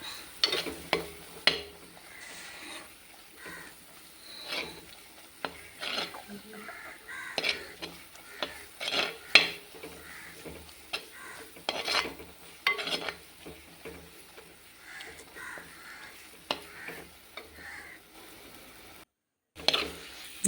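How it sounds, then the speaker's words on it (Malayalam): Chili masala sautéing in oil in a pan for an Alappuzha-style curry, giving a low sizzle under repeated scraping and stirring clatter from a spoon against the pot, close and uneven, with a brief gap near the end. "അപ്പോൾ അത് നമ്മൾ കുറച്ച് നേരം ഇട്ട് ഇങ്ങനെ വഴറ്റണം കേട്ടോ"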